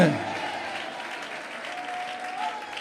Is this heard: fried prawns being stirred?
no